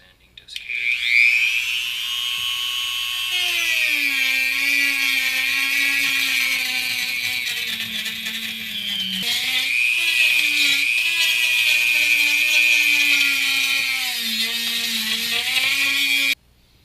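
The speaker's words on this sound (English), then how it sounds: "a trusty little sanding disc here." A small sanding disc on a power tool grinds material while fitting an Inline Fabrication flush mount, giving a loud, steady high whine that shifts in pitch as the load changes, broken by a brief dip midway.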